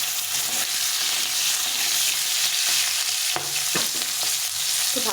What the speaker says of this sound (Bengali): প্রথমে আলুটাকে একটু লাল লাল করে ভেজে নেব